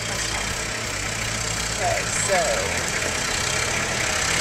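Big orange tractor engine idling with a steady low rumble, heard close and constant while a person speaks briefly over it.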